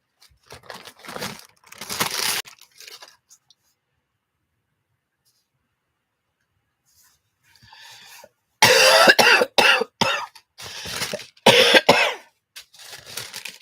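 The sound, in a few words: person coughing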